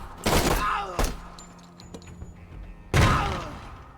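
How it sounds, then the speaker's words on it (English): Frag grenade blasts in the Door Kickers 2 tactical shooter game, two loud booming explosions about two and a half seconds apart with a sharp crack between them and faint clatter in the gap. "I'm gonna go ahead and also get a frag over here."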